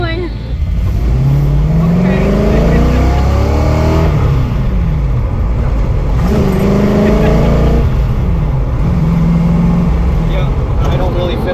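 A restored Ford GT40 drives with a loud, steady engine roar that rises and falls through repeated revving sweeps, heard close up from inside the car, with people talking over it.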